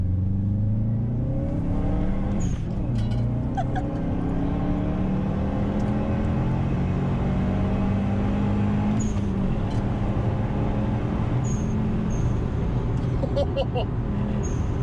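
A car engine revs loudly and rises in pitch with sharp hissing bursts from an external blow-off valve, set against a steady roadway rumble, and voices are heard now and then.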